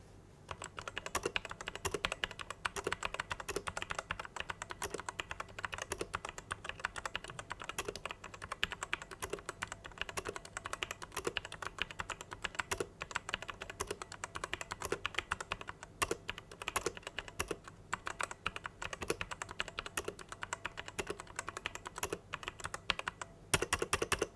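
Sustained fast typing on a Sades Tenka mechanical keyboard with Otemu switches, a dense, rapid stream of close, clacky keystrokes with a slight rattle, carrying on steadily with no speech.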